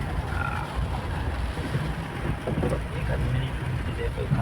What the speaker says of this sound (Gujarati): જો મિત્રો વરસાદ બહુ વધારે પડી રહ્યો છે,